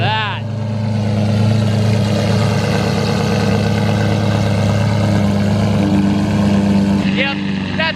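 A Lamborghini Murcielago sits idling nearby, its engine holding a loud, steady, even rumble with a dense layered tone for several seconds, unbroken and without other sounds.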